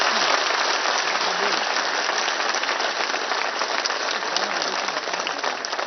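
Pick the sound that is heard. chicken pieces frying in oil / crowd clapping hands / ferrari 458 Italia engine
crowd clapping hands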